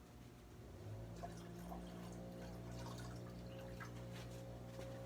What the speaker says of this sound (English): Now, we pour the water out.